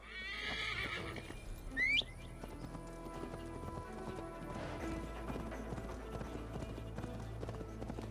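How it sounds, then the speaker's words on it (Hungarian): Horse hooves clatter in a steady galloping clip-clop with a brief neigh near the start, set against busy game music and ambience in the video game Assassin's Creed Valhalla. "Na, végre ló."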